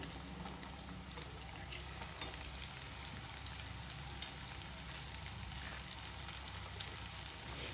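Onions sizzling and frying in a pan for a rich, spicy chicken gravy, a steady close hiss with light stirring scrapes throughout and no talking.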